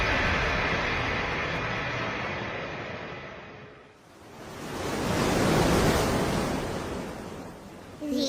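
Ocean surf rolling onto a beach inside an animated dungeon's lower floor, a broad roaring wash that fades midway and then swells back loudly as a new wave breaks.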